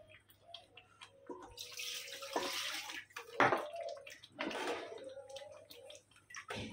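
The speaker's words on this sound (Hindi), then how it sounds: "अभी 1 गिलास इसमें पानी डालेंगे।" Water pours from a glass into a pot of chicken being cooked for murgh musallam, giving several short splashing gushes with quieter pauses between them, fairly close and soft against a faint background hum.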